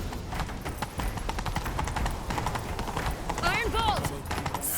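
Rapid horse hoofbeats in The Witcher 3: Wild Hunt clatter continuously in a galloping rhythm over a busy background, with a brief whistling sound near the end.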